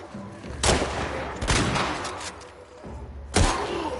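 Gunfire in The Last of Us Part II video game, a few sharp loud shots spaced irregularly over a rumbling game soundscape.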